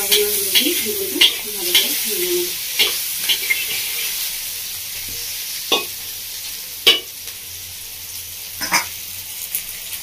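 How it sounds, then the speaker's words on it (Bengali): Vegetables and small eggplant sizzle steadily in oil in a pan for a Bengali vegetarian shukto, with repeated scraping clinks of a spoon stirring, loud and close, no talking. "সব সবজিগুলো ভাজা হয়ে গেছে"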